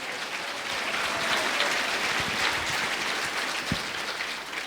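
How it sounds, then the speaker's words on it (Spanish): Church congregation applauding loudly at an Iglesia de Cristo service, a steady dense wash of clapping held evenly throughout, with no talk over it. "Fuerte aplausos, Iglesia de Cristo"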